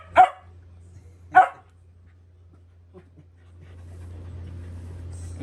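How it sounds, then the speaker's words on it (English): A household dog gives two sharp barks close by in a quiet indoor room, then falls silent while a soft low hum and faint rustling continue. "That's their doggy."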